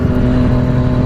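A 2015 Yamaha FZ-09 motorcycle engine runs in third gear with a steady, close, loud drone and a low rumble that holds even throughout, with no voices.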